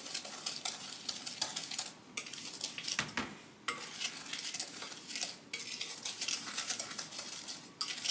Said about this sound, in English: I have the 3 tablespoons of sugar, 2 tablespoons of butter, go ahead and mix that up.